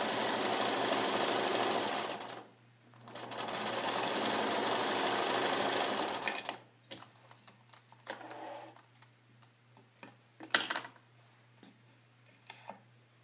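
A sewing machine stitches a seam in two steady whirring bursts, the second longer, then stops. Small clicks and handling noises of fabric follow, close and quiet.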